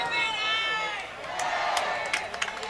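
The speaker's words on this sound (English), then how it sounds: "And now this crowd is getting really into it." A crowd at a men's college soccer match, Rowan versus NYU, cheering and shouting, with a sustained rise of voices and then scattered claps and sharp whoops.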